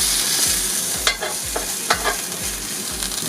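A vegan blueberry pancake sizzles steadily in a hot pan as it gets flipped, the soft frying hiss broken by a few sharper scraping and spatula clicks, close and fairly loud, with no talking.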